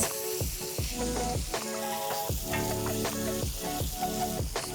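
Tomato and spices including fenugreek sizzle and fry as they cook down in a pan, a steady close crackle with occasional stirring scrapes throughout, no talk.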